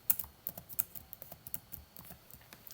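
Quick irregular clicks of typing on a computer keyboard, light close keystrokes tapping in uneven bursts with no voices.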